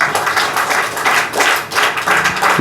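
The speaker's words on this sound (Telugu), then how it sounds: "చప్పట్లు కొట్టండి" An audience at a Christian gathering claps along. The clapping is moderately loud and continuous, with regular swells in rhythm.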